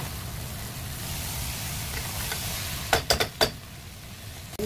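Hammour fish sizzles steadily in a pan of hot oil as a close, hissing fry; near the end a few sharp scrapes and clatters mark the fish being flipped, and no one speaks.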